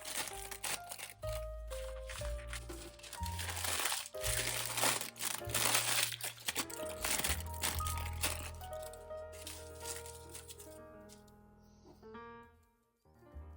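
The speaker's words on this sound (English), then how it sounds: "I crunch the paper so it stays flat on the baking dish." Cut baking paper being scrunched by hand to lie flat in a baking dish, with quiet crinkling and rustling that comes and goes over several seconds alongside a faint tonal background.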